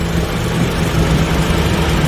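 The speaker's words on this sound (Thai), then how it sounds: "พัดลมระบายความร้อนด้านนอก สปีดแรงเลยนะอืดนะครับ" A Honda Brio's radiator cooling fan runs at high speed, giving a steady, loud, even whooshing roar with no break.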